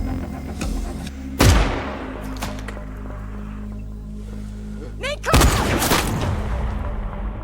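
Sniper rifle gunshots from the action film Seven ring out, with one sharp loud crack early and another burst later, set against a droning cinematic score and rumbling background effects.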